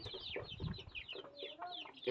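Many small native (desi) chicken chicks, sick with coryza, cheep at once, a dense chorus of thin, high chirps up close, with a few lower clucks mixed in.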